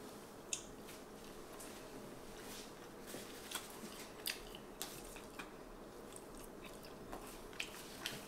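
Someone chews small pieces of egg-based carnivore keto noodles close to the mic, with soft, faint wet chews and occasional sharper bites or clicks in an irregular rhythm.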